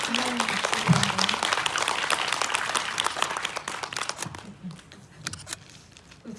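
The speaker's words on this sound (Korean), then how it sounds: "박수 한번 드릴까요?" Audience applause at a Seoul Independent Film Festival screening Q&A: dense clapping fills the room for about four seconds, then thins to scattered claps while voices talk underneath.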